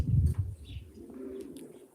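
Pigeons coo in a loft section holding about twenty birds, a low throaty burst near at the start, then softer murmuring coos continuing in the background.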